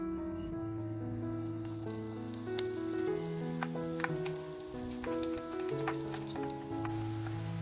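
Thin-stretched savory Chinese dough fries in hot oil with a soft, steady sizzle and scattered crackles, faint beneath a melodic music track.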